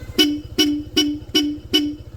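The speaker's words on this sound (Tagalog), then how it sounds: "Okay, so may rapid horn and combo light siya." Five quick, evenly spaced horn toots fire in a rapid burst from a Honda ADV160 scooter fitted with an aftermarket rapid-horn switch and a Bosch Europa horn, loud and close with no speech.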